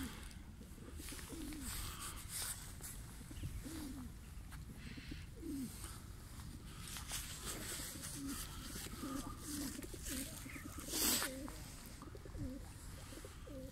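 Pigeons coo softly in a low, throaty murmur against steady outdoor background noise, with a brief louder rustle or flutter near the end.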